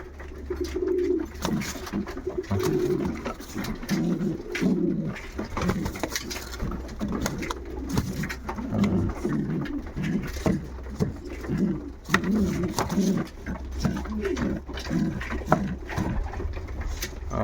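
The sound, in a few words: pigeons cooing in a pigeon loft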